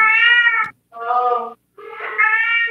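A cat gives three long, loud, drawn-out meows close by, separated by short silences, with the last call rising and wavering.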